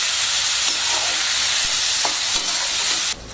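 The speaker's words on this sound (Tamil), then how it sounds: "அதுவும் எண்ணெயிலே ஃப்ரை ஆகிடும்." Tomatoes and turmeric powder fry in hot oil in a Tamil home kitchen, giving a steady, loud, broadband sizzle that holds throughout before dropping off sharply near the end, with a few faint clinks of stirring.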